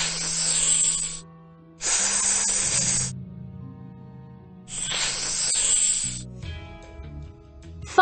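Snakes hiss behind a door in the Paw Patrol Academy video game: three long, loud bursts of airy hissing separated by brief pauses, with soft game tones underneath.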